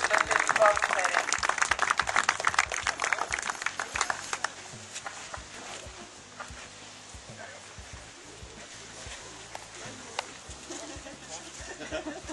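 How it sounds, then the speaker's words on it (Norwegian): An audience applauds at a Norwegian shooting championship prize ceremony, a dense burst of clapping at the start that fades under a speaker's voice on the public address. "En stor applaus til de beste teamene med masse skyttere som stiller til kvalifisering."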